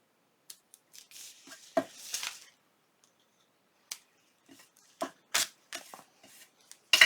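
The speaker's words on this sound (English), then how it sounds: "So I'm just going to cut my little strings." Scissors snip string several times in quick, close clicks, with small rustles of string and handling between cuts and brief silences.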